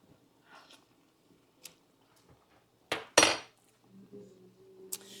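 A spoon clinks against a pan of country sausage gravy on the stove, giving a couple of sharp metallic knocks midway with faint scrapes and light taps around them, close and fairly quiet, with no talking.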